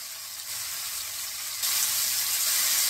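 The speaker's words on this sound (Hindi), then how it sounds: "पैन में हम 2 टेबलस्पून ऑयल लेंगे और उसको गर्म करने के बाद हम चिकन के पीसेस को एक-एक करके इस तरह लगाते जाएंगे" Chicken pieces laid into two tablespoons of hot oil in a pan, a steady broadband frying hiss that grows louder partway through as more pieces go in, with no talking.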